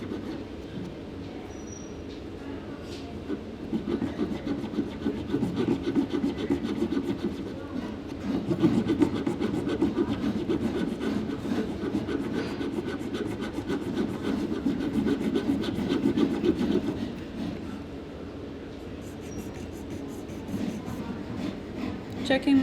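A file rasps steadily against carving wax shaped into a soft square ring, a close, continuous scratchy rubbing with a quick back-and-forth rhythm that continues with only brief pauses.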